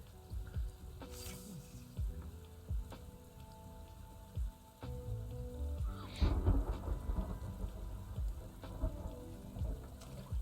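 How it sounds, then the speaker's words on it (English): Thunder rumbles low and rolls through a steady rain over a fishing scene, several deep swells rising and fading across the stretch, the heaviest near the middle, with no voices. "Ah, the thunder."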